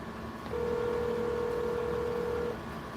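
An outgoing phone call gives one steady ringback tone lasting about two seconds over quiet background hiss.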